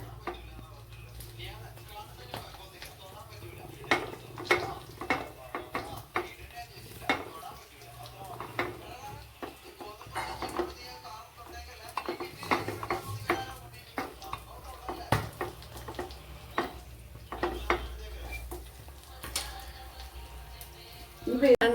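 A spoon stirs Christmas palappam (appam) batter in a pan, making irregular metallic scrapes and taps against the pan over a soft background, with occasional louder clinks.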